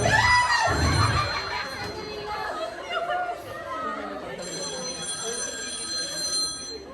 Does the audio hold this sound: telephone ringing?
yes